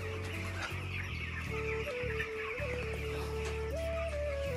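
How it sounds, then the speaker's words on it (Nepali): Chickens and chicks cluck steadily and close by on a farm, with higher peeping tones weaving over a constant low clucking bed, no talk heard. "चल्ला हेर्ने"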